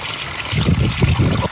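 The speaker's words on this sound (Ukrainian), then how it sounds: "Оце ми виливаємо погружним насосом воду з ємності." A submersible pump empties water from a tank at a rural well, giving a steady, close gurgling pour and splash that swells after a brief quieter start.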